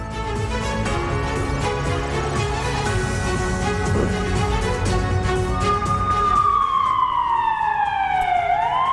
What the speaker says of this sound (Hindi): वॉर जोन में सायरन बज चुका है